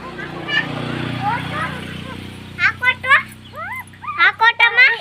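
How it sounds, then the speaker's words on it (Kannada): Puppies playing at home, giving a few high whimpering yips near the end over a busy background of children's voices and adult chatter. "ಇವಾಗ ನಾಯಿ ಮರಿಗಳನ್ನು ಆಟ ಆಡಿಸ್ತಾ ಇದ್ದಾರೆ"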